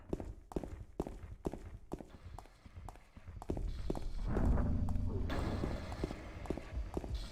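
Footsteps of a lone character in the horror game Silent Hill 2 tread in a steady, evenly spaced rhythm, close and crisp, before a swell of ambient drone and noise rises and partly buries the later steps.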